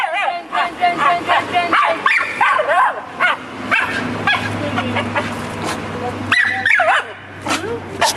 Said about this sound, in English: It's spinning dog.